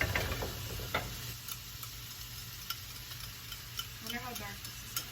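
Sauce stirred in a pan over low heat: soft, steady scraping and faint sizzling, with light clicks from the utensil throughout.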